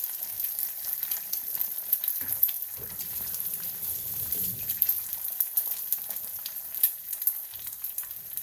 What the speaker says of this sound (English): Put some nice size eggs, I tell you.